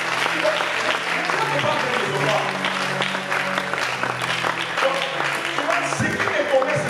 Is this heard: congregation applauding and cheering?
yes